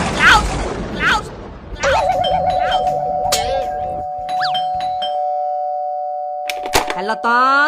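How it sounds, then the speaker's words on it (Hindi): A cartoon doorbell rings with a sustained electronic chime that holds for several seconds after brief bursts of animated voices and effects, with more cartoon sounds cutting in at the end. "दरवाजे की घंटी बज रही है"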